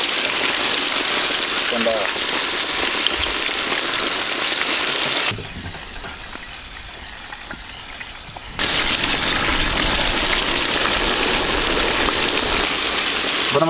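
Crispy battered chicken sizzles and crackles steadily in hot oil, a loud continuous frying hiss that drops away briefly midway, with a voice speaking over it.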